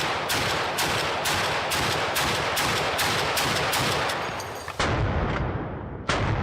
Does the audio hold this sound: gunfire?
yes